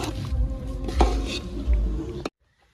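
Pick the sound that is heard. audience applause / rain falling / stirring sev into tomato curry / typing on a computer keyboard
stirring sev into tomato curry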